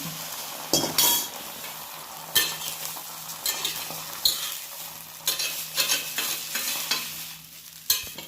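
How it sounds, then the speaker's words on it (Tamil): Omelette mixture sizzles in a pan while a utensil scrapes and clinks against it in irregular bursts as the omelette is stirred and flipped. The sizzle is steady underneath, and no one speaks. "மொத்தத்தையும் நான் அதுக்கு மேலே ஊற்றிட்டு அப்படியே திருப்புறேன்."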